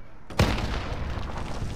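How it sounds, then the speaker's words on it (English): A sudden explosion in the shooter Call of Duty: Modern Warfare, one sharp heavy blast followed by a long, loud rumbling decay, with no speech over it. "It scared the hell out of me because it was an explosion"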